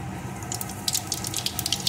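Black cumin seeds dropped into hot mustard oil for a fish curry give a close, quiet crackle. Sharp spitting bursts start about halfway through and continue in an uneven patter over a low background hiss.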